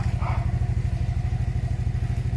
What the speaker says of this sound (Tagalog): maramdaman po yung andar sa makina po ng Aero Metal Guard.